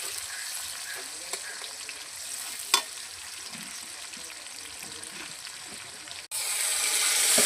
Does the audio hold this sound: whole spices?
yes